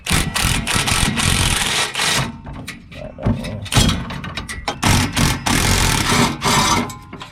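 Bursts of a pneumatic impact wrench loosening exhaust bolts on a Honda Civic Si rattle in short loud runs, broken by brief pauses and clanks of metal in a garage.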